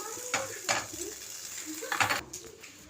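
Okra fries in a pan, nearly done, with a soft sizzle under repeated scraping strokes of a spatula against the pan, several distinct stirs close by.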